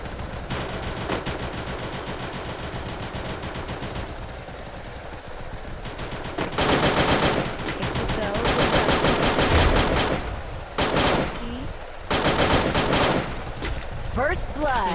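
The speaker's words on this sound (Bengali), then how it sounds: "এখন ফায়ার করা হবে।" Bursts of rapid gunfire fill a shooting video game match, with dense machine-gun volleys that grow louder and more intense partway through, broken by brief pauses and sharp single shots.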